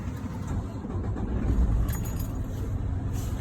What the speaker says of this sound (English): and now we'll start the vehicle